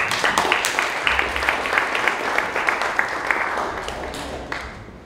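An audience at a crypto regulation masterclass in Lisbon breaks into lively applause with sharp individual claps standing out, tapering off toward the end.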